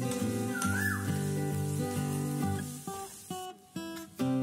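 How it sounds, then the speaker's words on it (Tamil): Turmeric powder sautés in a pan for sabudana kichidi, a light sizzle and fry mostly buried under whistled, melodic background music. "இந்த மஞ்சளோட வாசனை போகற வரைக்கும் லைட்டா வதக்கிக்கோங்க"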